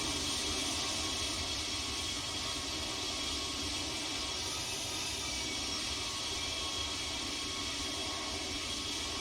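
A Toliss A320neo (A320-251N) airliner in the X-Plane 12 flight simulator produces a steady, even jet engine roar with a broad whooshing drone. It runs unbroken with no voices.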